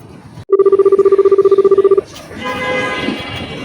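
A telephone rings with a rapid electronic warble lasting about a second and a half, loud and close, followed by people talking.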